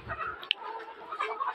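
Layer hens in a poultry farm shed cluck softly and intermittently, a faint close murmur of several birds with one brief sharp peep.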